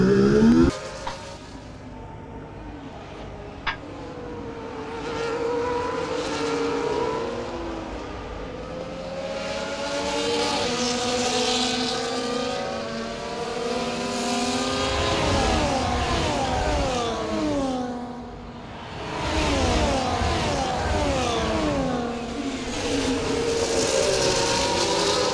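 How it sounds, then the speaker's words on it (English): Formula One cars race around the Baku street circuit in an EA Sports F1 video game, their engines rising and falling in pitch through gear changes and acceleration, loud and continuous throughout. "right now we are racing with the Ferrari, as he is very close behind."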